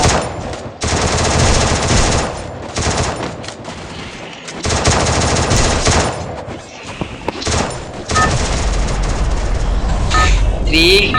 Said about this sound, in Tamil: இப்போ நான் தாம்சன் கன்